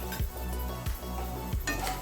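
Chana dal and urad dal sizzle in a pan while a utensil scrapes and stirs, with three distinct scraping strokes over a steady frying hiss.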